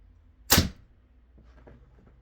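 A Hoyt compound bow looses an arrow during casual backyard archery practice in Pennsylvania: one sharp, loud snap and thwack, then a faint scatter of small rattles and knocks as things settle.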